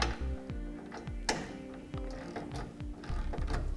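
Ratchet wrench with a 3/4 inch socket tightening heavy-duty B and W trailer hitch receiver bolts on a 2005 Chevrolet, a close, quiet run of rapid repeated ticking clicks in short bursts, with no talk.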